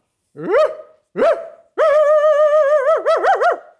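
A person imitates a dog barking: two short yelps, then a long, wavering howl-like bark and a few quick barks at the end, loud and close.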